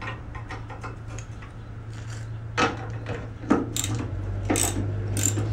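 A ratchet works loose the seat bolts in a 1962 Grumman Olson Kurbside step van, giving steady close clicking with a few sharper clunks and rattles of metal over a low hum.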